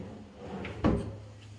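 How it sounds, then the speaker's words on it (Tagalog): A drawer in the cabinet under a new kitchen counter opens or closes with one short, muffled wooden thud near the microphone. No voices can be heard around it. "Lalagyanan, may drawer."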